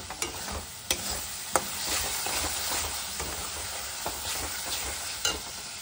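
Chicken being stir-fried with sugar during kosha cooking, a continuous close sizzle broken by sharp stirring scrapes and clacks of a spatula against the pan at irregular intervals.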